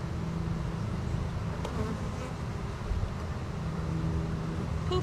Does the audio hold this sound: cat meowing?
no